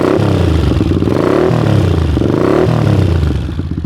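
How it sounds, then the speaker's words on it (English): A Honda CX500 café racer motorcycle engine running close by, a loud throbbing idle with uneven rhythmic pulses and a couple of rises in revs before it eases off at the end. "just turn her on and see how she sounds"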